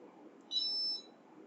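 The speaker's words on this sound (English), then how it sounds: "If I commit one more mistake, so you can see the game is over, and there is a constant beep" An Arduino game buzzer sounds a steady, high electronic beep for about half a second at game over, clear and close above a quiet background hiss.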